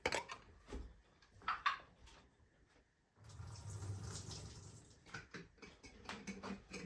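Water drains out of a jar of soaked seeds being cold-stratified, a soft rushing pour after a few quiet clinks and taps, close and faint.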